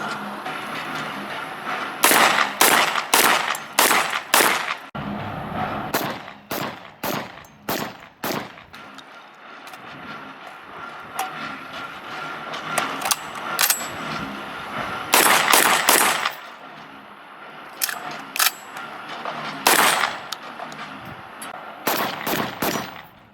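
An automatic UTAS XTR-12 shotgun fitted with a muzzle brake fires rapid bursts of loud, sharp blasts, clustered volleys separated by brief pauses and echoing over roughly twenty seconds, with no talk.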